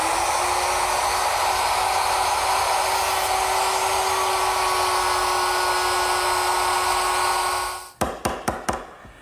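A router cuts a second pass of a dado into wood, a loud steady high whine running for about eight seconds before it winds down, followed by a few short sharp knocks.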